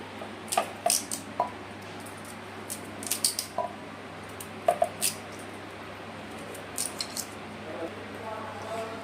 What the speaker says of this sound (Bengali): গাজরটাও আমি কেটে নেবো পিস পিস করে ছোটো ছোটো করে